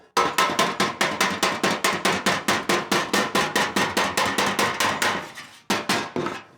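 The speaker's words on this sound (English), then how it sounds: "If you're hearing the sharp peen of the hammer, you're hitting the dolly at that point." A hammer strikes a 1962 Cadillac fender skirt's sheet metal against a dolly in fast, even blows, each a sharp ringing clank, dozens in a row with a brief pause near the end.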